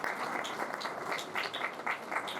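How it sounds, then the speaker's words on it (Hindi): Sustained audience applause at an award ceremony in Dewas, steady and dense with many hands clapping together at moderate distance, no voices over it. "कृपया ताली बजाकर देवास के इस प्रयास को सराहें।"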